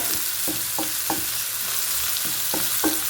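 Curry sautéing in a pan on a gas stove, a steady close sizzle with faint scraping stirs at irregular moments and no talking.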